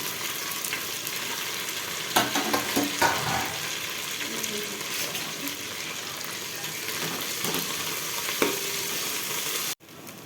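Green chili, onion, coriander and mint frying for bagara rice, a steady close sizzle with occasional stirring clatters and scrapes, then a sudden cut near the end.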